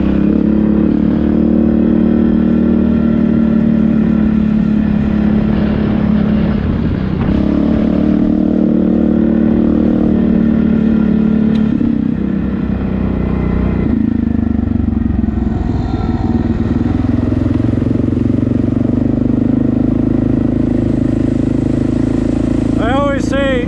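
An ATV engine runs steadily while riding a spring trail, a loud continuous drone with shifting load and revs throughout, with a voice speaking near the end.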